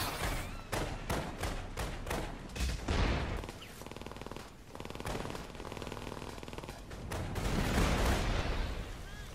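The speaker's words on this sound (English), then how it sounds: "Let's see who they're shooting at." Rapid bursts of gunfire from the video game inFamous First Light, dense volleys at the start easing into steadier sustained firing with a louder swell near the end.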